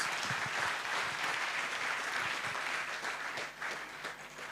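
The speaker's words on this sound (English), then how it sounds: "I think Prof deserves a louder round of applause." A lecture audience gives a sustained round of applause, dense and fairly loud, with a few sharper claps standing out and a slight dip near the end, and no voices over it.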